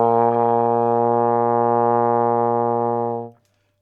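A single sustained brass note, steady and rich in harmonics, held for about three seconds at even loudness before cutting off.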